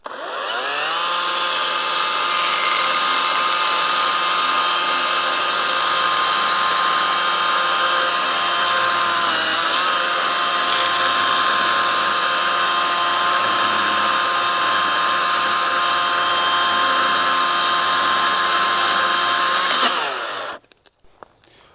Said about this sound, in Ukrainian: Приблизно секунд за 30 ми відпиляли 21 см сосни.